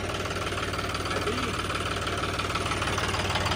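A John Deere 5210 tractor with a power upgrade idles with a steady, rhythmic diesel chug, loud and close, holding an even throb throughout with no pauses.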